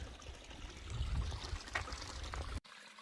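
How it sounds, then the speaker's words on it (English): A small stream trickles and burbles softly along a desert trail in Arizona, a faint continuous flow heard close by and alone before it cuts out abruptly near the end. "Oh, looky there, we got more flowing water."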